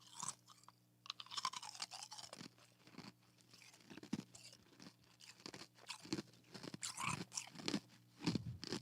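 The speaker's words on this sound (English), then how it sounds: "So I started chewing ice." A person chews and crunches ice cubes up close, with repeated sharp, brittle cracks and grinding crunches in an uneven rhythm and short pauses between bites.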